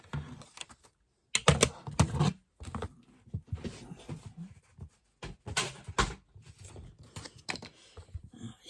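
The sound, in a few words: scissors cutting paper for a vintage tag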